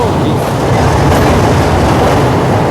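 The Padatik Express runs on rails, heard from inside a carriage as a loud, steady rumble with clickety-clack wheel noise throughout and a faint squeal.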